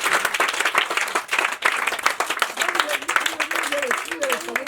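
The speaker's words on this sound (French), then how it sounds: "Est-ce qu'on peut acclamer vraiment?" Audience applause and cheering at a community charity event held at an NGO centre in Abobo, Ivory Coast, a steady, close wash of many hands clapping for several seconds with voices calling out over it.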